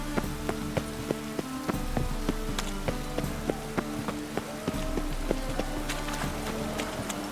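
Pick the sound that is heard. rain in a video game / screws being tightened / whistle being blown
rain in a video game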